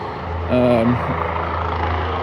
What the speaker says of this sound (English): Wow, that helicopter's taking off.